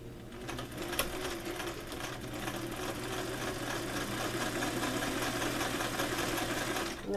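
Sewing machine stitching a placket zipper into fabric, a steady rapid mechanical whir and needle chatter running continuously at close range, even in loudness throughout with no talking.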